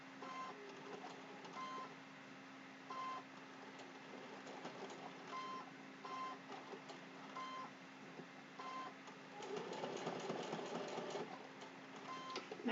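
A sewing machine stitches appliqué on a Halloween placemat. It hums quietly and steadily with repeated short bursts and clicks, then runs in a denser stretch toward the end, with no talking.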